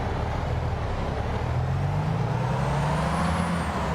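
A truck's air brake hisses in American Truck Simulator over a loud, steady engine rumble, with a rising whistle-like tone near the end; no voices.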